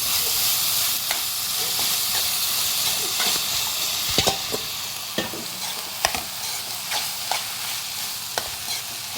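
Cooked banana flower is stirred into dal sizzling in a pan, a loud continuous frying hiss overlaid with repeated sharp clicks and scrapes of a spoon against the vessel.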